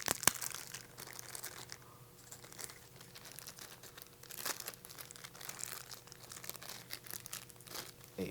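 Packaging around a Fujifilm X20 camera's leather case being opened, faint crinkling and rustling of wrapping material in short irregular bursts, quiet and close.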